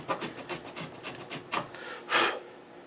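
Thin blade scoring a center line across the nut of a Les Paul guitar, a series of short dry rasping strokes in a steady rhythm, close and fairly quiet, ending in one longer, louder scrape.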